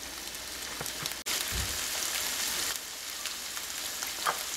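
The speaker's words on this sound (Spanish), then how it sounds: "vamos a freír la cebolla. Dejamos a que se fría un ratito." Onion frying in a pan, a soft steady sizzle with faint crackles heard up close, with a brief cut partway through and no voices.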